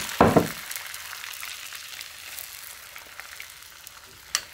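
Water hitting a hot frying pan with a little cooking oil, a sharp loud burst of hissing at the start that quickly fades into a faint, steady sizzle, ending with a single brief clink.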